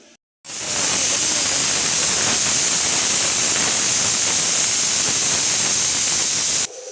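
Pressure cooker on a gas stove cooking sambar, letting out a loud, steady hiss of escaping steam for several seconds that begins abruptly and cuts off at the end.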